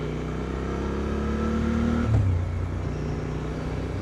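Suzuki V-Strom motorcycle engine droning steadily as it downshifts, the pitch sliding down and dropping sharply at a gear change midway, then settling into a lower hum; close, loud and continuous, with no talk.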